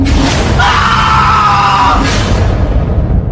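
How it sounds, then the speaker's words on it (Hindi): A frightened scream sound effect in a horror story: one loud, sustained, high-pitched cry of fear lasting over a second, set against a continuous rumbling background. "एक अजीब सी डरी हुई चीख निकली"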